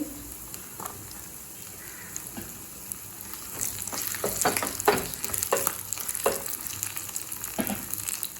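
Small pieces of coconut fry in a pan for a coconut rice payasam, starting as a faint hiss and swelling into busier crackling sizzle with stirring scrapes partway through.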